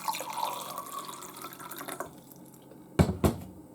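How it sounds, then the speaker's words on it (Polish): Tap water running into a glass until it is half full, a steady trickle with a rising gurgle, then fading, ending with two sharp clinks and splashes. "Na sam początek nalewamy wody do połowy z szklanki."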